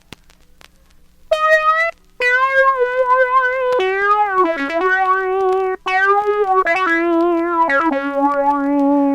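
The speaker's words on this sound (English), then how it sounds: "I'm going to turn on phaser A and let you see what that sounds like" A single-note keyboard melody through a Mu-tron phaser on setting A, with a swirling, sweeping tone, played alone, bright and upfront, with a brief pause between opening notes.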